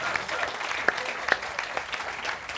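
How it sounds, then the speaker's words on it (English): An audience applauds at an industry panel event, with steady clapping that carries a few louder individual claps and fills the space at moderate volume. "Big round of applause to thank them for their time."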